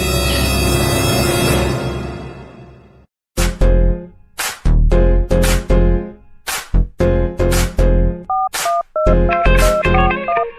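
A mobile phone rings with a loud electronic musical ringtone of rapid repeated tonal bursts, preceded by a sustained musical passage and ending in quick melodic beeps, no talk.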